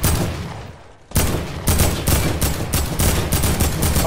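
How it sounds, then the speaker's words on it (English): A turret firing on the player in the Fortnite battle royale game: after a brief lull, rapid repeated gunfire bursts in a fast rhythmic fusillade, loud and close, with no talking. "I'm getting shot at by a turret."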